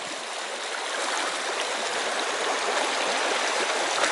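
Stream water rushes and burbles continuously at a ford in Hodders Combe, a loud, close, steady flow with no voices over it.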